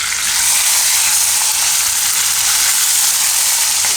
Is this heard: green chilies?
yes